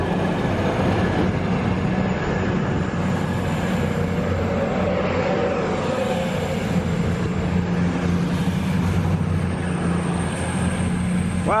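London-bound passenger train pulling away from Wellingborough station after overshooting the platform, a steady loud rumble of engine and wheels with a continuous droning hum, heard close and holding level throughout.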